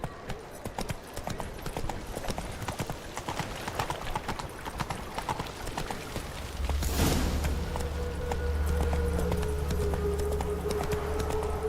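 Horse hooves clip-clopping steadily in The Witcher 3: Wild Hunt, a close, even rhythm that runs throughout, joined near the end by a steady low rumble and tonal hum.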